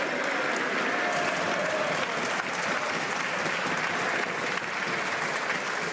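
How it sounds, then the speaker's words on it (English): Sustained, dense applause fills a parliamentary chamber during question period, steady and loud throughout with a few voices faintly mixed in. "I'm sure the minister appreciates the applause deeply"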